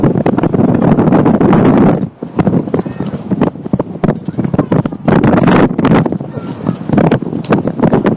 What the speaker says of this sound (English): And the wind really kicks up.